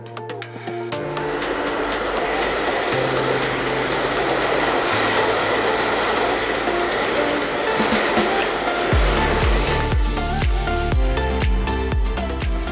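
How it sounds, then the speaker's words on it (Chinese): A hair dryer blows hot air onto the back cover of a Redmi 10X Pro phone during a teardown, a loud, steady whooshing roar with a few low knocks and handling bumps near the end. "翻过来用吹风机对背面加热"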